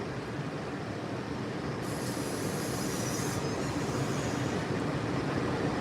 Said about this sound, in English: Just to show you how this monorail operates.